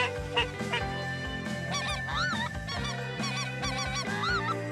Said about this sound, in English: Big group of ducks